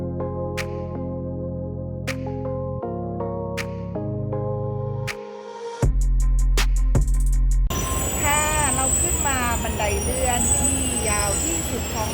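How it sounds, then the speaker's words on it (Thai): Hong Kong tram arriving: rail noise that shifts into a harsh, wavering metallic squeal of wheels on track, loud and close, after a stretch of steadier tonal sounds. "ถึงแล้วรถรางสัญลักษณ์ของฮ่องกง"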